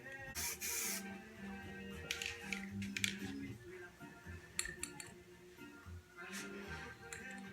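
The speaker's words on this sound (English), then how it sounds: "So now we're gonna spray it." Several short hissing bursts of spray paint, each lasting about a second, with faint handling clatter between them.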